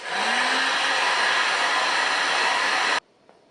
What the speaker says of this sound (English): Got to use a heat gun and just peel them off.